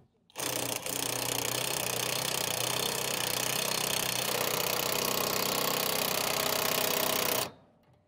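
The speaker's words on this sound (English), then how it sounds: "We can start that threading in to the main piece here and tighten it down with a 19 millimeter socket." A power tool drives a bolt with a 19 millimeter socket on a trailer spare tire mount for angle-iron railing, a steady loud mechanical whirr running for about seven seconds before stopping abruptly.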